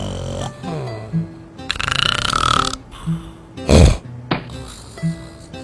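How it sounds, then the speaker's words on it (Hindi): A man snores loudly in a humorous Indian TV commercial, with several distinct snorts and rumbling snores of varying styles, separated by short pauses. "आपको सिर्फ दो तरह के खर्राटे पता होंगे, मेरे हस्बैंड को 5 आते हैं।"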